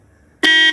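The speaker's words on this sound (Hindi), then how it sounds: "ये रूट्स का हॉर्न" Roots horn fitted on a Royal Enfield Bullet motorcycle gives one loud, bright, brassy blast that starts abruptly after a near-silent moment and holds steady before being cut off.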